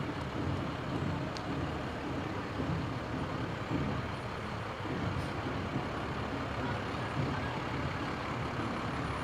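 A fire department truck rolls past in a parade with a continuous heavy engine and road rumble, steady and close, with brief hisses over the crowd ambience.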